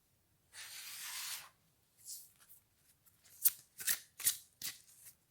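A deck of cards being shuffled: a sustained riffle of papery whir, then a series of sharp, separate card snaps and flicks, close and fairly quiet, with no talking.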